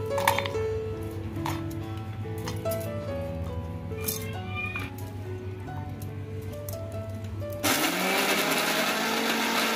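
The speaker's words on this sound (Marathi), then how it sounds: "हे पण मिक्सरला लावायचं आहे, याची पेस्ट बनवून घ्यायची" A kitchen mixer grinder starts up near the end, blending tomatoes and Kashmiri chillies into a paste with a loud, steady whirring roar that follows several seconds of quieter tonal humming.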